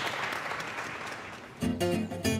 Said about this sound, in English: Everybody applauding!